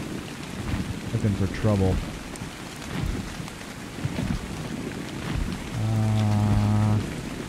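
Rain falling in the open world of the survival video game ARK: Survival Evolved, a steady dense patter with rumbling underneath, while someone talks over it and brief game tones sound.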